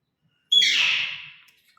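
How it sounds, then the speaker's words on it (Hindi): A pet myna bird lets out a single harsh, raspy squawk, close and loud, lasting about a second against silence. "मैना, सही मतलब है सिर्फ वो देखा।"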